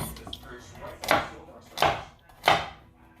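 Three sharp knife chops through carrots on a cutting board in a home kitchen, spaced about a second apart, close and crisp against a quiet room.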